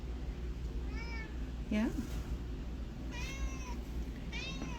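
A talkative shelter cat meows several times at an adoption center, rising and falling cries spaced through the clip, with a brief word of human speech between them.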